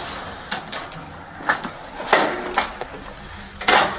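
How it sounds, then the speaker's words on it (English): An indoor door is opened with a string of short knocks, clicks and latch rattles spaced about half a second apart, moderately close and with no talking. "I'll grab the next door for you"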